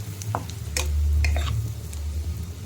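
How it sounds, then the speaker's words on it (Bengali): Flour frying with chopped onion and garlic in a pan for a chicken white sauce, stirred with a utensil that scrapes and taps now and then over a low, steady sizzle and hum, close and fairly quiet. "ময়দাটাও এর সাথে একটু ভেজে নেব।"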